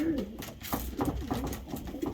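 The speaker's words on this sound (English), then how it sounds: "The cockbirds are really getting fired up at the moment" Racing pigeon cock birds coo steadily and close by, their low, throaty, rolling calls overlapping without a break, with no talking.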